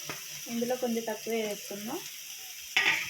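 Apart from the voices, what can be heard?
onion and tomato frying in pan for gongura curry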